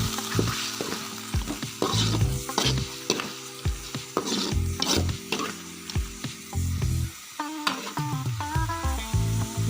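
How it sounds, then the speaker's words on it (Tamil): Chicken and capsicum fry in a pan with a constant sizzle and frequent scraping stirs of a spatula against the metal. The sound is close and busy, with no talking. "நம்ம நல்லா வந்து ஃப்ரை பண்ணிக்கலாம்."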